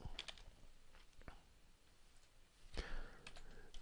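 Keys on a computer keyboard tap out a date in a short, sparse burst of faint clicks, a few quick presses then a louder clack, against a quiet room.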